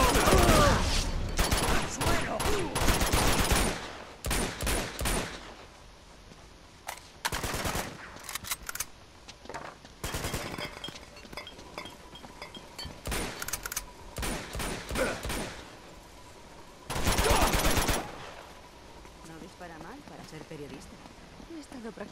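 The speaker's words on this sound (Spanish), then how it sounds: "¡Disparo!" Bursts of rapid gunfire in Uncharted 2 crackle in loud volleys, broken by short pauses, with a voice calling out over the shooting.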